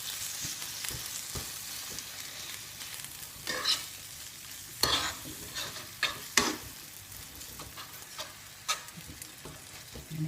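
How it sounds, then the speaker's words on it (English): Curry paste fries in a pan for a creamy vegetable and chickpea curry, giving a steady soft sizzle punctuated by spoon scrapes and taps as it is stirred. "I'm just going to add the curry paste."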